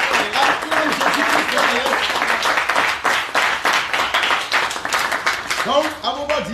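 A church congregation applauds and cheers in acclamation of Jesus, with dense, continuous clapping and crowd noise throughout, close and loud, and voices rising near the end.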